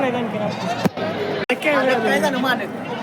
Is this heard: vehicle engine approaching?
no